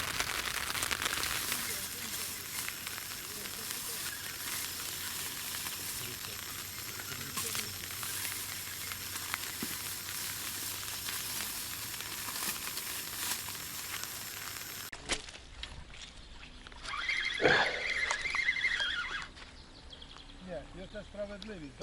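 Bream caught on a feeder-fishing trip fries in a pan outdoors on a rainy day, giving a steady, close sizzle and crackle that runs under people talking.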